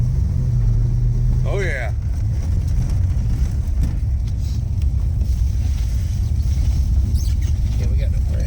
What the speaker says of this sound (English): Big block, 69, Barracuda, 383, 4-speed